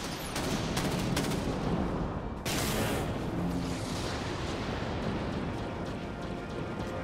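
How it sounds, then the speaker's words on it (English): Torpedo launches and naval gunfire in the warship combat game Dreadnought, a dense roar of booming blasts and rumbling explosions, loud and continuous with a sharp new burst midway. "I launch torpedoes."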